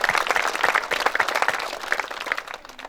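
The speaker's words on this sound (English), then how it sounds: "let's give him a round of applause anyway" An audience claps together in a steady round of applause at a public meeting about a levy, dense and fairly loud throughout, with no talking over it.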